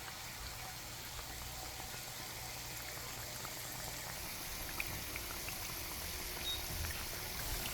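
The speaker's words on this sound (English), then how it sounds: "Alright, let them stay there, fry some more." Jamaican festival dough frying in hot oil: a faint, even bubbling hiss that keeps going without a break and has no voices over it.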